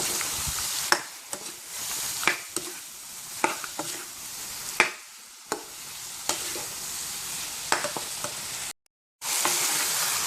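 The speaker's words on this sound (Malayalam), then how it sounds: "ചിക്കൻ ചെറുതായി മൂട്ടി തുടങ്ങി നമുക്കിതിലേക്ക് ഇഞ്ചി വെളുത്തുള്ളി പേസ്റ്റ് ചേർക്കാം." Chicken frying with ginger garlic paste for butter chicken, with a constant close sizzle broken by repeated sharp scrapes of a spoon stirring the pan and a brief drop-out near the end.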